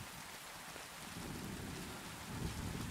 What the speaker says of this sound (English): you can hear the rain hitting your armor, like your helmet